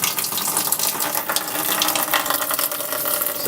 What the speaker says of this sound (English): you can hear the tub filling over here